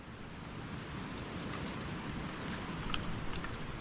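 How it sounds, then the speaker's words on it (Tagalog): A strong, continuous roar of wind buffets the microphone, a dense rushing noise with no pauses and no voices. "Humahampas yung mga hangin."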